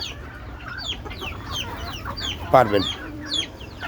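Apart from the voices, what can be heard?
desi chickens clucking on a rooftop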